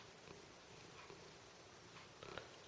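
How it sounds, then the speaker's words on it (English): Sammy the cat purring softly and steadily close by in a quiet cottage room, a faint continuous low rumble with small rustles. "He's sat here purring, listening"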